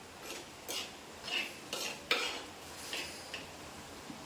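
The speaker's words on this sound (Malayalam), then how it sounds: "കുറച്ച് നമുക്കിതൊന്ന് കൂട്ടി ഇളക്കി കൊടുക്കാം." Raw green mango pachadi simmering in a pot is stirred with a spoon, giving a steady run of soft scraping strokes and light clinks against the metal, close and quiet, with no voices.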